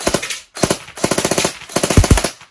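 An airsoft gun firing on full auto in four rapid bursts of sharp, evenly spaced snapping shots, loud and close, separated by brief pauses, with no talking.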